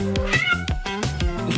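A cat meows several times in quick succession, close and clear, with short repeated cries and no talking over them.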